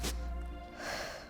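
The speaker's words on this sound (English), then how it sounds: "Exhale." A sharp, close exhale of breath comes during a home Pilates exercise, followed by a softer breathy rush of air.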